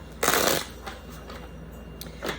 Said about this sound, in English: So I'm shuffling these decks